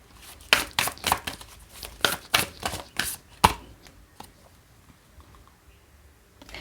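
Tarot cards shuffled, handled and drawn at close range, a quick burst of crisp papery flicks and snaps over about three seconds, then quieter occasional rustles.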